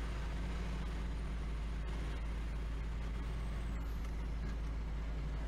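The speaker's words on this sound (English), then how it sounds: "Just hit the brakes, stabilize." Truck air brakes in the video game Farming Simulator 2015, heard during logging as a steady, loud hiss and rumble that runs under the whole stretch with no talking.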